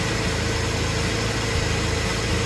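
A Jeep engine idles steadily after starting, a constant close rumble with an even low throb and no talk.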